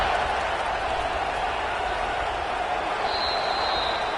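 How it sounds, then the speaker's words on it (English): A football stadium crowd buzzes after a score, a steady dense roar of many voices filling the whole stretch without a break, loud and even, with a faint high whistle near the end. "this crowd is buzzing after that last score"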